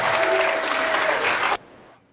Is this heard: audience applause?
yes